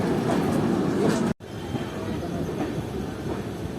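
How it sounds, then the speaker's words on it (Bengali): The Saraighat Express pulling out of platform 1 at Bardhaman station, a loud continuous rumble of rolling wagons close by, cut by a brief drop midway before the roar resumes, with no clear talk. "আমাদের ট্রেনকে সরাইঘাট এক্সপ্রেস ওভারটেক করে বেরিয়ে যাচ্ছে বর্ধমান স্টেশনের 1 নম্বর প্ল্যাটফর্ম থেকে।"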